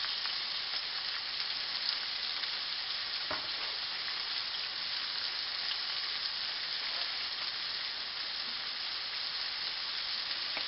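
Steak frying in butter in a pan makes a constant, even sizzle and hiss at moderate volume, uninterrupted and without any voices.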